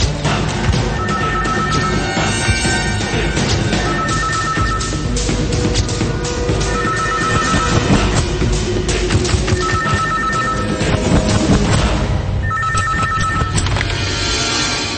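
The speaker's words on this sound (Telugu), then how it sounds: "ఫోన్ వచ్చింది" A telephone bell rings repeatedly in bursts over dense, loud film soundtrack noise in a Telugu action drama, with no talk.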